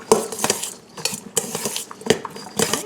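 A spoon stirs seasoned ingredients, including sea salt, in a bowl for stuffed bell peppers, making a series of sharp, close clinks and scrapes against the bowl at an irregular rhythm, with no talking.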